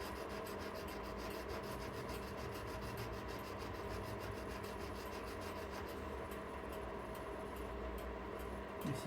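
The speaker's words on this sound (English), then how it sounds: "This is a very, very fine file abrasive I have here, and the good thing is you can just slide it along and keep it flat" A very fine file abrasive rubs back and forth along steel clock pallets, a faint, rapid rhythmic scraping that continues steadily at close range with no talking.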